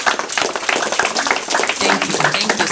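Many hands applaud at a Kisii County town hall meeting, a thick sustained clatter of clapping throughout with voices faintly mixed in beneath it.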